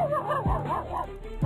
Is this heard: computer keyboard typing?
no